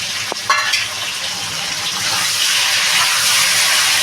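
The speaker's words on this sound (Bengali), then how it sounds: "আলুটা ভেজে নেবো ভালো মতো বন্ধুরা এই যে কেটে রাখা টমেটোটা এটা দিয়ে দেবো এবার" Potatoes and chopped tomato fry in a pan, giving a steady, close hiss that swells slightly toward the end, with a few sharp clinks early on.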